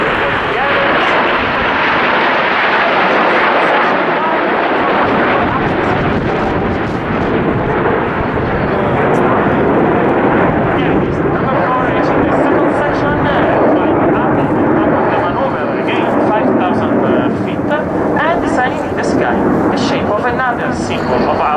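Frecce Tricolori Italian Air Force jets roll through an aerobatic manoeuvre at the RIAT 2011 airshow, a loud, continuous roaring jet rumble that swells and holds throughout, with a commentator talking over it.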